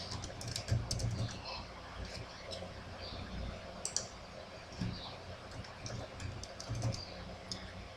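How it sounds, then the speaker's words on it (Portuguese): Irregular key clicks from typing on a computer keyboard, fairly quiet and close, with some mouse-like clicks and a person talking in the background. "Deixa eu digitar aqui."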